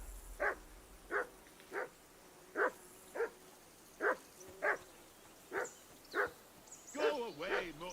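Dog barking in Kingdom Come: Deliverance II, a medieval-setting game: about ten sharp single barks at a steady pace, fairly close, ending in a rougher cluster of yelps.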